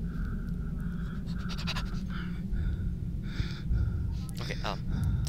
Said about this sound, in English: Oh, breathing. That's scary.